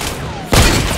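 A heavy sniper rifle in the Fortnite video game fires one loud, booming shot that cuts in abruptly over the game's background noise and rings on briefly afterward.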